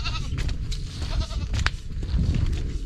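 On a small farm after goats are given vitamin and deworming injections, goats bleat in short, overlapping cries that rise and fall. Steady outdoor rumble and shuffling continue underneath throughout.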